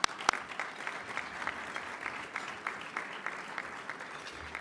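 An audience gives a round of applause for a group of mayors at a lunch event. The clapping is dense and steady, with one sharp clap near the start, and no one talks over it.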